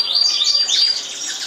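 A Bengalese finch gives quick, bright, high chirps in a short burst of repeated tweets. The calls are close and clear, with no voices.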